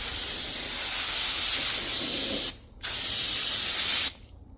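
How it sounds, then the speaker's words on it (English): Two long, loud bursts of aerosol brake cleaner hiss up close onto a drilled and slotted brake rotor of a 2020 Ford F-150, separated by a brief pause, then the spraying stops abruptly. "clean both sides of the surface of the rotor with some brake clean"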